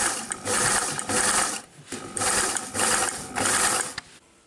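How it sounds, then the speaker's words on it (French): A sewing machine topstitches along the edge of a garment's neckline binding, running in loud rhythmic bursts with short pauses between them, mechanical clatter close to the listener and no talking. "Après, on fait la surpiqûre au bord."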